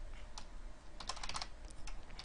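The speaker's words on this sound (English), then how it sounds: "the vast majority of you like watching me screw up my typing" Quiet, rapid typing on a computer keyboard sounds as soft clustered keystrokes in uneven bursts, with no talking.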